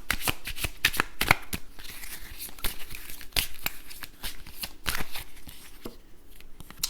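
A deck of soul purpose cards shuffled by hand, giving crisp riffles and flicks in irregular bursts, close and fairly loud, with faint talk at moments.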